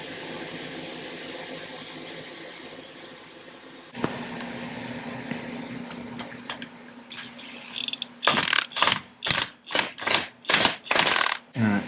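Castle nut being tightened onto a tie rod end on a Kubota BX23S tractor front axle, first a steady mechanical hum, then a sharp run of loud, rhythmic ratchet strokes close up.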